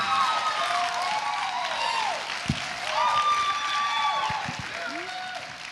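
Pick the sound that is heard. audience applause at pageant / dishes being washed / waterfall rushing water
audience applause at pageant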